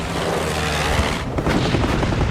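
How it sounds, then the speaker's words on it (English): Anti-aircraft flak fire from the German battleship Bismarck, a dense continuous roar of booming bursts with low rumbling thumps, loud and sustained throughout with no voices. "Bismarck's anti-aircraft gunners desperately filled the sky with flak"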